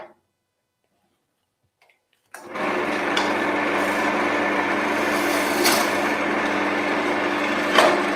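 A wood lathe spins up and a roughing gouge cuts down the diameter of a wooden handle, giving a steady, continuous whirring and scraping hum after a brief silence, loud and close.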